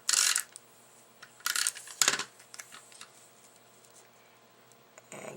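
Strips of tape pulled and pressed onto a handmade masculine card: a few short, crisp tearing bursts close by, then quiet ticks and light handling noises, with no talk.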